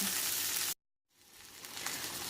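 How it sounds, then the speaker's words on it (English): Chocolate chilli rubbed beef searing in a pan, a loud broad sizzle that cuts out abruptly for a moment, then builds back up into steady frying. "we're going to sear it on the other side for another 4 minutes as well"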